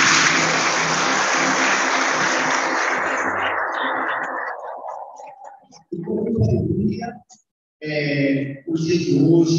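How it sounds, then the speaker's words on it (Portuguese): A congregation at a Mass for Senhor do Bonfim claps loudly and steadily for several seconds, the applause fading out as a voice begins speaking over it. "Uma salva de palmas forte"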